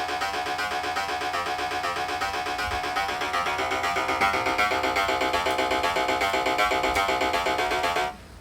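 A synthesized riff recreated in LMMS software loops steadily for about eight seconds, a bright, busy electronic pattern with a regular repeating pulse, loud and close, then cuts off abruptly with no talking.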